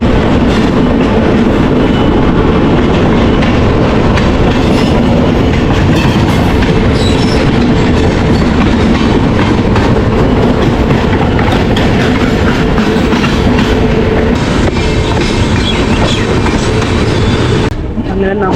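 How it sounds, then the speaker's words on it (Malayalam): Trivandrum–Chennai Mail train running alongside a Chennai–Jaipur train, a loud, steady rumble of wheels and carriages with rhythmic clickety-clack throughout, heard from on board. "നമ്മുടെ ട്രെയിനും അപ്പുറത്തെ ജയ്പൂരിന് പോകുന്ന ചെന്നൈ സെൻട്രൽ ജയ്പൂർ ട്രെയിനും തമ്മിലൊരു ചെറിയൊരു റേസ് നടന്നുകൊണ്ടിരിക്കുകയാണ്."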